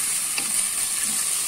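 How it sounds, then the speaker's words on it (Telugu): Maggi tomato paste frying in a pan, giving a steady, bright hiss of sizzling oil that holds even and close, with one faint stir near the start. "ఇట్లా ఫ్రై చేసుకోవాలండి."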